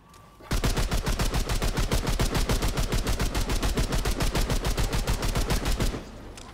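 Full-auto gunfire from a weapon in Remnant 2, a sustained rapid burst of loud, evenly spaced shots lasting several seconds, alone and close, ending abruptly.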